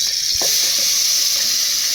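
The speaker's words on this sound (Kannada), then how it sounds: "ಎಣ್ಣೆ ಕಾಯ್ದ ನಂತರ ಸಾಸಿವೆ ಹಾಕ್ಕೊತಾ ಇದ್ದೀನಿ ನಂತರ ಕರಿಬೇವು ಹಾಕ್ಕೊತಾ ಇದ್ದೀನಿ" Mustard seeds and curry leaves hit hot oil in a pot, giving a loud, close, continuous sizzling hiss with a few brief pops and crackles, and no talking.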